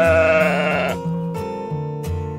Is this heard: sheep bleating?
yes